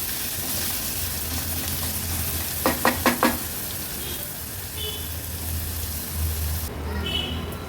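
Finely chopped onion cooks in a pan with hing over a low-to-medium gas flame, giving a soft, steady sizzle with a quick cluster of light knocks partway through.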